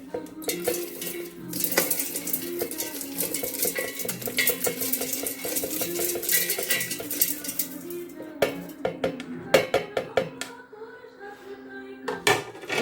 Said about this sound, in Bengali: আমি এবার এটাকে মিক্সি জারে ঢেলে দেবো।